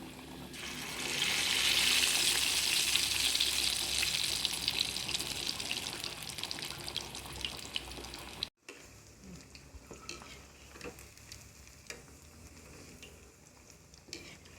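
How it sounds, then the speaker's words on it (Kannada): Marinated bangda (mackerel) fish kabab frying in hot oil over a high flame: a loud, steady sizzle that runs for several seconds, then cuts to a quieter, softer sizzle with faint clinks. "ಹೈ ಫ್ಲೇಮಲ್ಲಿ 2 ನಿಮಿಷ ಫ್ರೈ ಮಾಡ್ಕೋಬೇಕು"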